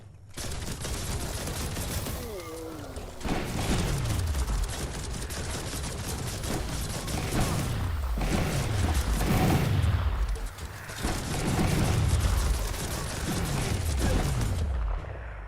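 Repeated gunshot bursts in Biomutant ring out through a loud combat scene, each volley of sharp reports trailing off into a deep booming decay, coming in a steady rhythm of about one burst every second or two.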